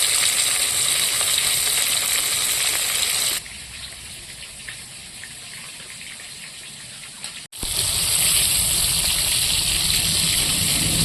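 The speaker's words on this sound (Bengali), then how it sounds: "মাছগুলো আমি হালকা করে ভেজে নেব" Koi fish frying lightly in hot oil in a wok, a steady broad sizzle that dips quieter for a few seconds with a brief gap, then swells back loud and constant.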